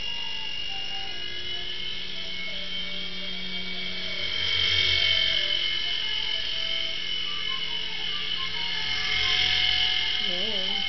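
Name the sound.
RC helicopter taking off and flying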